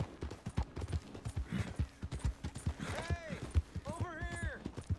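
Horse hoofbeats while riding in Red Dead Redemption 2, a steady galloping clip-clop rhythm throughout, with someone talking over it and a tonal whinny-like call near the end.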